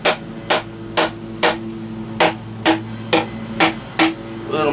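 Wooden pieces of a planter being hammered together, with nine sharp, loud, close strikes at a steady, slightly uneven rhythm and no voices.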